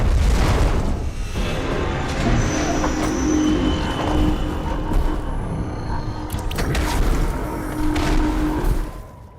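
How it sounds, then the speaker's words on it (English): Rapid Gatling barrage from the massive Imperial Knight mech Lady Solaria in Dawn of War III, loud and continuous with booming impacts and dense explosive rumble throughout, no talking. "She's a massive mech with Gatling guns for arms that do things like this Gatling barrage"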